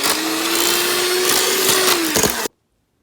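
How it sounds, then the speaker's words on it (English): Electric mixer whirring as it creams brown sugar and butter for a Guyanese fruit cake, a loud steady motor hum with a slight wobble for over two seconds before switching off abruptly. "So I just mix the sugar and butter together."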